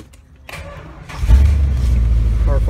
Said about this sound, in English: Car fires right up, that's nice.